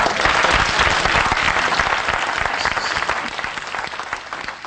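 A church congregation bursts into loud, sustained applause acclaiming the name of Jesus, a dense wash of clapping that fades slightly toward the end.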